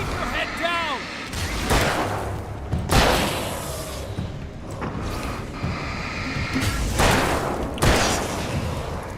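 Gunshots and heavy booms from the video game Alan Wake's American Nightmare fire in several spaced blasts, loud and reverberant, while a person talks over the action throughout.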